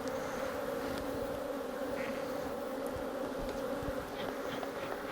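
Honey bees buzz in a dense, continuous drone as a hive is opened and pulled apart for splitting, a close, steady hum with the odd faint knock.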